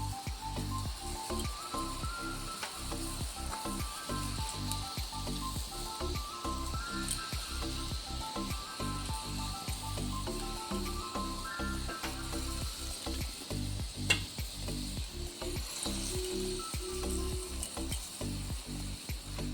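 Sour fish curry simmers in a pot as fish pieces go in one by one, giving a steady, soft bubbling and sizzling hiss that continues evenly at a moderate level throughout.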